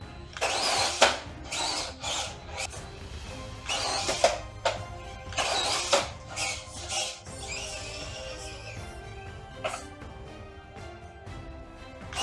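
An FMS FCX18 RC crawler fitted with an INJORA 48T motor runs in high gear, its motor whining in repeated short bursts of acceleration with brief pauses between, fairly close and moderately loud.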